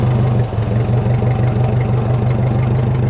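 A 1950 Ford 8N tractor engine idles steadily after start-up, with a loud, close, even low chugging pulse that runs without a break and carries no speech.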